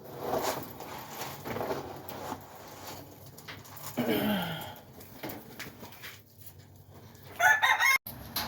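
A rooster crows nearby, then other chickens cluck and call at varying distances with some scuffling and faint patter around them.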